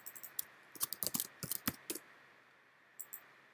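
Clicks of typing on a computer keyboard while naming rig bones in Cheetah3D, a few quick bursts of keystrokes near and moderately loud, then a pause and two final taps.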